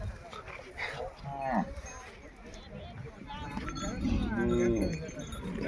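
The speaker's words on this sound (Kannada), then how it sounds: "ನೋಡ್ರಿ ಹೆಂಗದ ಎತ್ತು ಇಲ್ಲಿ." Large bulls at a cattle market in Bijapur give two deep, drawn-out moos, one brief and one longer, while people talk nearby over a busy outdoor background.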